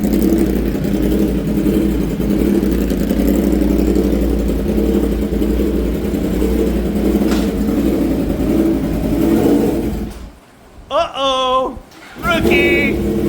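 A 2026 Yamaha R1 sportbike with an SC Project exhaust runs on a dyno, giving a steady loud engine drone for about ten seconds before it drops away, with voices and a few shouts near the end.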